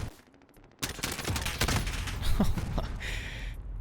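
M4 rifle gunfire in Call of Duty Modern Warfare, a sudden burst of rapid automatic shots with dense repeated cracks and trailing echoes, loud and close.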